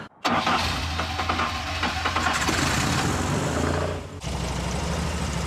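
A car engine cranks and catches, running without its cam sensor, then runs steadily at a loud, close idle for several seconds before the sound briefly dips and resumes.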